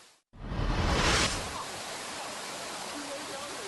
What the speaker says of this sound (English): the third tier water cascades into the pool below from rocky streams, making roaring noise